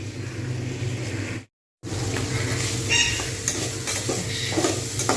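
Potatoes and onion stalks dry-frying in a pan, a low steady sizzle with scattered scraping stirs and light clinks, close, with one brief silent gap.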